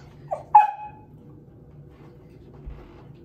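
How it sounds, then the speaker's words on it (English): A dog gives a short whimpering yelp followed by a sharper bark-like yip close by indoors, then falls quiet against a low background hum. "The dog."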